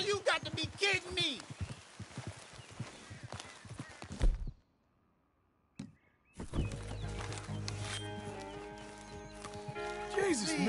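Horse hooves clip-clop and the horse neighs in Red Dead Redemption 2, close and lively, then a brief silence before more hooves and a whinny return amid game sounds.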